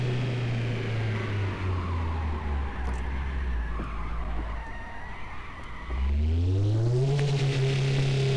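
Car engine in the City Car Driving video game revving as the gas is pressed, a loud buzzing drone that sags, then surges upward again with pitch climbing, tires squealing briefly and no talk.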